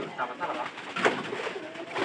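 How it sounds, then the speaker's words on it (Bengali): Pigeons coo repeatedly indoors inside a rural Bangladeshi house, their soft throaty calls close and steady amid faint background rustle. "ঘরের ভিতরে কিন্তু কিছু কবুতর গেছে"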